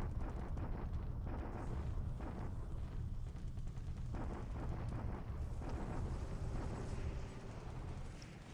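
Bombardment explosions in the wartime strategy game War in the Pacific: a low, rumbling barrage of muffled blasts rolling on continuously at moderate volume, fading slightly at the end.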